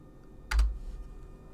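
A few quick keystrokes on a computer keyboard enter a numeric value during CAD work, one brief cluster of close, crisp taps with quiet room tone afterward.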